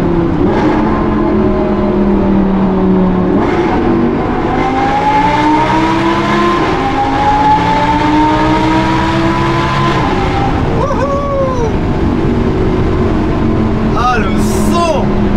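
A supercar's engine roaring in Monaco, a loud rising and falling mechanical tone that climbs through the revs and shifts pitch as it passes, with people talking over it.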